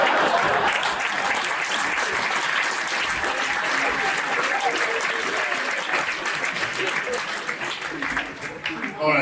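An audience at a stand-up comedy show breaks into sustained applause, loud and dense clapping that runs throughout, with a voice over it.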